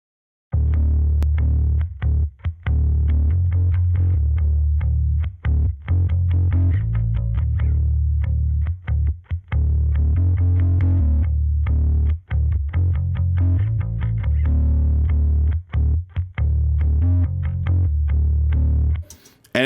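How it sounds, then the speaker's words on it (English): A solo electric bass plays a moving line with slight distortion in a song arrangement, loud and upfront, its notes plucked in a steady rhythm with short gaps between phrases. "there's a little bit of distortion in this bass"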